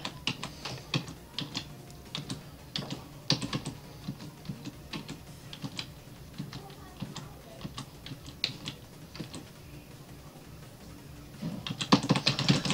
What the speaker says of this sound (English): That's how you spam keys.